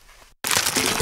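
Potabee zigzag-cut potato chips with roasted seaweed bits give one sharp, loud crunch up close after a brief moment of silence.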